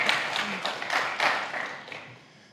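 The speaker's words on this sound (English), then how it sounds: "Yeah, you can applaud." An audience at a conference panel gives a short burst of applause, with scattered claps rising and fading over a couple of seconds at moderate volume.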